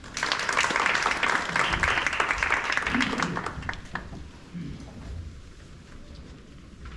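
Applause from the audience at a National Assembly policy forum on Nowon redevelopment, greeting a congressman's congratulatory speech: a steady crowd patter for about four seconds that then fades into quiet room tone.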